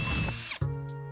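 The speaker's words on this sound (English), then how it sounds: "take the drill and you're gonna line it up with the marks that you made on the box and you're gonna drill" A power drill whirs briefly while boring a hole into a box, a short close mechanical whine that drops off and then resumes at a steadier pitch.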